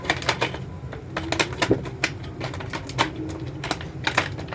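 Scissors cutting through thick material while assembling a door knob, a quick series of sharp, crisp snips and crunches with a short rhythmic pattern, close and fairly loud with no voices.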